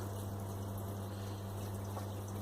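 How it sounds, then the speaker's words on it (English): Hot water pumped through hops in a Grainfather home brewing system: a constant, steady pump hum with a soft watery wash, unbroken throughout. "pour some hot water over the top of the hops and actually pump that through as well"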